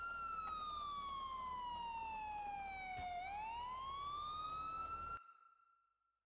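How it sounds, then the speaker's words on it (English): A police car siren from the video game Grand Theft Auto 4 wails loud and close, sliding down in pitch and then back up before it cuts off abruptly and leaves a short fading tail. "I don't really want a car that's got the sirens stuck on."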